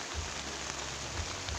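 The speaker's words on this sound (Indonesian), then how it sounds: "ditambah hujan yang tak kunjung reda" Steady rain pattering on a camping tent at night, a dense even hiss with occasional soft drops, close and continuous with no talk.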